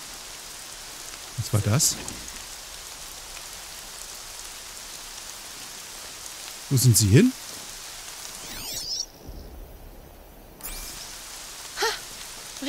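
Rain falls steadily in the video game Horizon Zero Dawn, a constant hiss interrupted by loud in-game impacts and a man's remarks.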